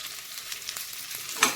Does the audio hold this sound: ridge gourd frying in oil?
yes